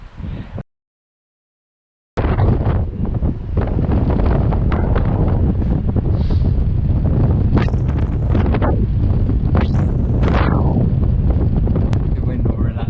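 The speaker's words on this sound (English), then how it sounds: "The wind will relax a little bit." Strong wind at the top of a skyscraper roars in loud, continuous gusts across the microphone after a short break in the sound.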